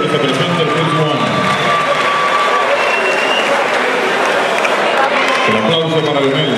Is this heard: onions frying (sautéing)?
no